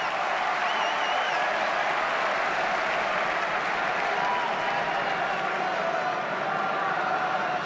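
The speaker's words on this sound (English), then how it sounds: "And the roar of the crowd." A huge stadium crowd at the Roland-Garros men's tennis final roars and applauds in a dense, continuous, loud wall of cheering and clapping that holds steady throughout.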